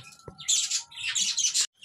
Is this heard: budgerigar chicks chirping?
yes